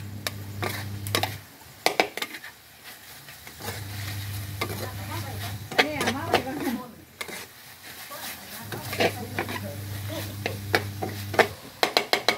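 Spicy eel is stir-fried Thai style in a pan, with loud sizzling and repeated clattering scrapes of stirring, interrupted by pauses where someone talks.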